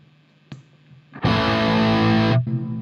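After a brief pluck, an electric guitar chord rings out heavily distorted and thick through a Garland Tyranos tube amp head on a darker setting, sustaining for about a second before cutting off.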